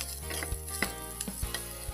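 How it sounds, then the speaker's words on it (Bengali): Soybean chunks fry in hot oil with a soft, steady sizzle, broken by a few light clinks and scrapes of stirring in the pan. "দেখো সয়াবিন বড়িটা ভেজে নিচ্ছি"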